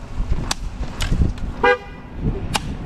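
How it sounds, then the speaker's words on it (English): A car horn honks in a couple of short toots amid outdoor Christmas backyard play with a BB gun, fairly close and mixed with background noise and movement. "Don't be honking."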